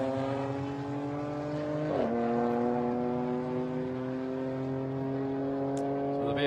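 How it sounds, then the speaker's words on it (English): BMW GT4 race car crossing the finish line at the Bahrain GT4 International Cup, a loud sustained engine drone with a brief pitch dip as it shifts, then holding steady, with commentary over it. "So the BMW comes across the line and it finishes as the winner of the category in 11th position"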